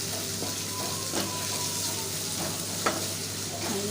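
Onions frying in oil with a little salt for a masala gravy, a steady close sizzle with faint stirring clicks and a few soft knocks, no talking.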